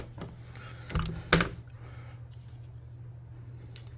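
Two sharp, close snips of scissors cutting through a plastic straw, about a second apart, amid quiet room hum.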